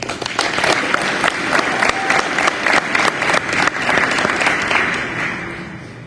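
Sustained applause from an audience at a police certification ceremony honoring officers, a dense steady clatter of many hands that swells and holds before tapering slightly near the end.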